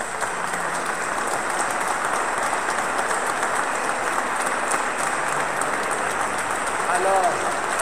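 A wedding congregation inside a cathedral applauds steadily, a dense, reverberant wash of many hands clapping that holds evenly throughout, with a faint voice briefly rising near the end.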